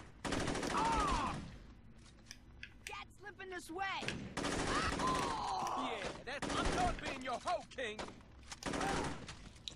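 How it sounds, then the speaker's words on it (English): Gunfire in the Saints Row video game, loud bursts of rapid automatic shots in several long volleys separated by short gaps, with scattered single cracks between them. "Just a random girl that started shooting"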